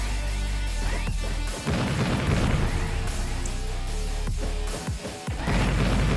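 Dense, continuous rumbling blasts and crashing booms of ground explosions in the game Stickman Legends: Survival RPG, with repeated heavy impacts layered over busy background noise and music.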